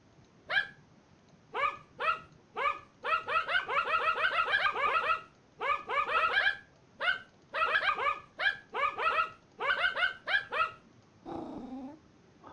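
Repeated dog barks in The Cat Games video game, sharp clipped yips and barks coming in rapid bursts with short pauses, loud and close and with no voices, ending in a lower growling sound.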